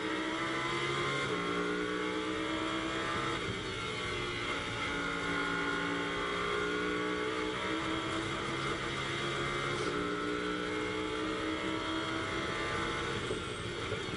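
Lamborghini Super Trofeo race cars at the Nürburgring, engines powering uphill with rising gear-change whines, loud and continuous, several cars overlapping.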